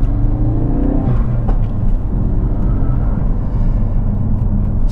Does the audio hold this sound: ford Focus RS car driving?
yes